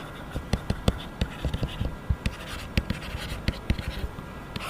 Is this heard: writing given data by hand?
yes